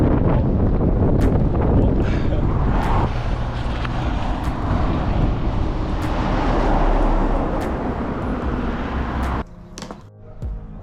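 Strong wind roars and buffets the microphone continuously near the new bridge at Cigacice, easing off abruptly near the end.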